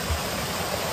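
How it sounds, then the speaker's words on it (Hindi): A small waterfall beside a road near Nainital, its cold water pouring as loud, steady broadband rushing from close by, with no voices. "ये है झरना"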